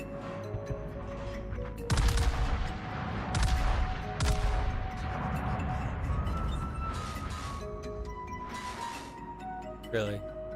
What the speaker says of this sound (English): Why am I the only one shooting at this guy?